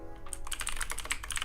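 Quick, irregular clatter of keys on a computer keyboard during late-night C++ coding in Unreal Engine, close and fairly soft, with no voices.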